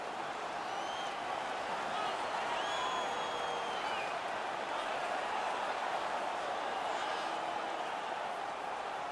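Home crowd noise in the NHL 19 ice hockey video game during a Stanley Cup Final game between the Nashville Predators and Pittsburgh Penguins, a steady broad roar of cheering and applause sustained throughout at an even level.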